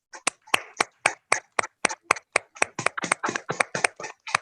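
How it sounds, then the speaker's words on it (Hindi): People in an online meeting clap together, a quick run of sharp, evenly spaced claps about four per second that grows slightly denser toward the end. "और बाकी हम सब लोग उनके लिए ताली बजाएंगे।"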